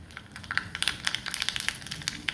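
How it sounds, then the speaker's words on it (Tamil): Mustard seeds splutter and pop in hot oil on a stove, a tempering step for radish chutney, giving a busy stream of sharp, close crackles with no talk. "இதில் கொஞ்சமாக கடுகு போட்டுக்கலாம் கடுகு பொரியட்டும்"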